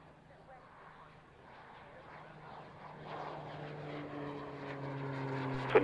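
Jet aircraft engine roar building steadily louder during a takeoff at the Fairford airshow, with a low steady hum underneath and an air traffic controller's radio voice talking over it.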